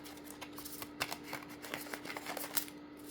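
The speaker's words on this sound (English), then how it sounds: "But I am shuffling, just so you know." Playing cards are shuffled by hand in quiet, soft bursts of riffling and flicking, with small crisp snaps scattered across a few seconds close to the listener.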